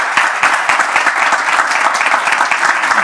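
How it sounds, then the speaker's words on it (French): Audience applause from a gathered congregation, dense and steady at close range, a continuous wash of many hands clapping for about three seconds. "est-ce que le peuple de Bethléem déjà peut faire des applaudissements?"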